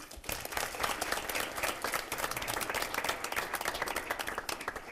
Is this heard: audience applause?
yes